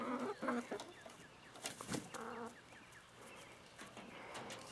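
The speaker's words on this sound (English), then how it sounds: "Come on, little red chickens." Small red chickens cluck in short, scattered bursts outdoors, the calls fairly close and moderately loud against a quiet yard background, with no talk.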